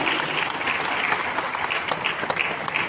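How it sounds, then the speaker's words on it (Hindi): Steady crowd applause honoring an MLA at the Guru Vashishtha festival in Kota, a dense, even wash of many hands clapping close by, with no talk over it. "इनके सम्मान में जोरदार तालियां होनी चाहिए"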